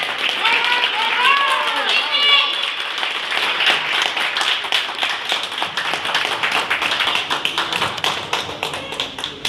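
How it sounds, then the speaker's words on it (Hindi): An audience in a group meeting in Ahmedabad claps loudly and steadily for several seconds, a dense continuous patter of many hands with some voices mixed in. "एक बार जोरदार तालियां सोनिया मासी के लिए"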